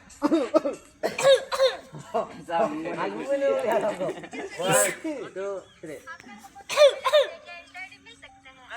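A child coughs several times in short bursts, mixed with voices talking and a bit of laughter nearby.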